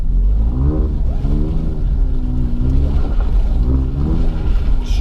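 An Alfa Romeo Giulia Quadrifoglio revving hard while drifting down a home driveway, the loud engine note rising and falling in repeated swells, close and continuous.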